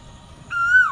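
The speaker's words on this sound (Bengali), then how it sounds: "এই গাছে কোথাও একটা কোকিল পাখি বসে আছে" A single clear, rising whistled bird call rings out over a quiet background, close and loud, lasting under half a second.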